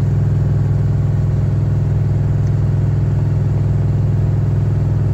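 A Detroit Diesel inline 671 runs smoky and worn after a cold start, giving a loud, steady, close low rumble with an even throb. No distinct revs are audible, and no one speaks.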